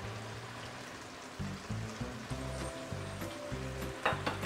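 Prawns quick-frying in a hot pan over raised heat as oyster sauce goes in: a continuous loud sizzle, with stirring and scraping pulses through the second half.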